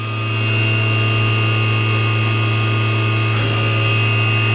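A FANUC Robodrill vertical machining center spindle spins at 6,500 RPM, giving off a steady, loud tonal hum with a fixed whine above it and an airy hiss. It holds unchanged for several seconds with no talking.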